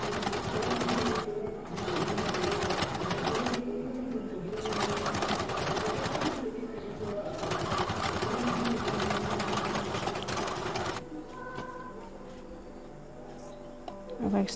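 A sewing machine stitches blouse fabric in loud, close bursts of rapid stitching separated by short pauses. Someone talks quietly underneath in places.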